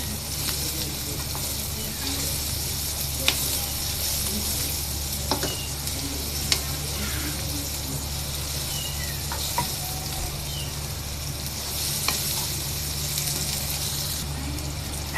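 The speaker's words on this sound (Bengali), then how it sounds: "গাজর আর পহিটাকে একসাথে ভেজে নিব" Carrots and other vegetables fry together in oil in a pan for chow mein, a constant close sizzle broken by occasional clicks of a utensil, with no clear talking.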